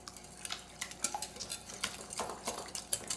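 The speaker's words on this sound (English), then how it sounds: "And then I'm beating this together." A whisk beats eggs and sugar together in a bowl, giving quick irregular clinks and scrapes in a steady rhythm, close and fairly quiet with no talking.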